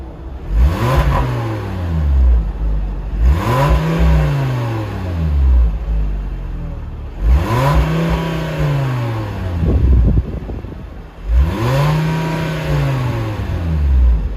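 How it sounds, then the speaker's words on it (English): VW MK5 Jetta with a UPSW aftermarket exhaust revving: four separate blips, each rising and falling sharply with a raspy exhaust note, spaced a few seconds apart with quiet idle between, close and loud. "So I'll just give it a couple revs"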